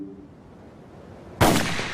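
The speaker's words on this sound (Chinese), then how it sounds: "刚才响亮的枪声是从楼顶的狙击点激发的" A single sniper rifle shot fired from a rooftop firing position about 23 metres up, aimed at a target 350 metres away, cracks sharply and loudly after near silence, then trails off in a lingering echo.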